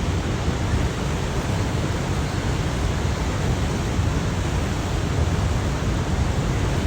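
Steady, dense roar of rushing water at Niagara Falls fills the whole stretch, broadband and unbroken, heard close by, with no voices.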